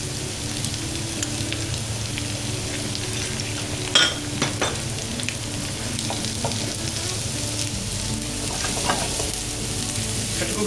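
Onions, green chili, ginger and garlic fry in hot oil for lamb dumplings, giving a steady close sizzle with occasional stirring scrapes and a sharp clink near the fourth second.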